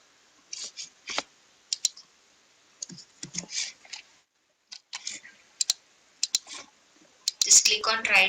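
Scattered computer mouse clicks, single and in quick pairs, come up close and crisp among pauses, with brief quiet speech near the end.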